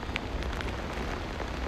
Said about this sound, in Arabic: هنا بقى بتمطر الدنيا